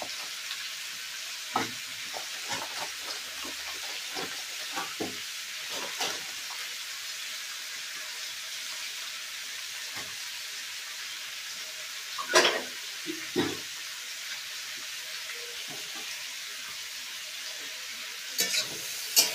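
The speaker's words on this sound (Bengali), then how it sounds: "তো আমি ভালো করে এখানে কষিয়ে নেব আলুগুলোকে" Potatoes and vegetables stir-frying in a pan for a prawn curry, with a steady soft sizzle under repeated scraping and stirring strokes, and louder clattering bursts around the middle and end.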